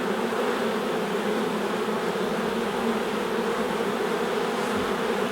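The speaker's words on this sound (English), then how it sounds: "Look at that, it's a nice frame of bees." Honey bees buzzing around a frame lifted from the hive, a steady, dense drone held up close for the whole stretch with no talking over it.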